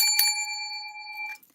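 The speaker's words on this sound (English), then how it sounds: "happy bell ringing." A bell is struck once, a bright metallic ding with a clear ringing tone that sustains for over a second before being cut off.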